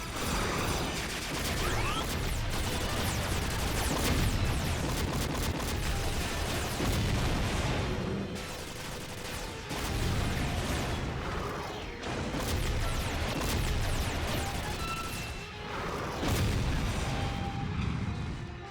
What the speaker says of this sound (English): Shoot at their legs and put them out of commission.